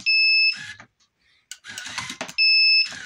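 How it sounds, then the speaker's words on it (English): XCP TCD-180M heavy-duty high-capacity card dispenser giving out a card, marked by a loud steady electronic beep at the start and again at the end, with a brief mechanical whir and clatter in between. "Each time I press my button, it lets you know that it's dispensed out a card."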